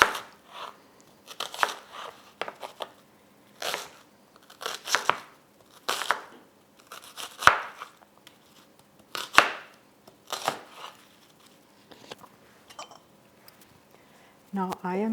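Knife chopping an onion into large chunks on a cutting board, a series of distinct irregular cuts spaced through the clip, close and fairly loud, with brief pauses between strokes.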